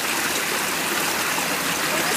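Water from a spring being pumped through a Katadyn water filter, a steady close rushing and trickling flow of water, continuous and fairly loud with no voices.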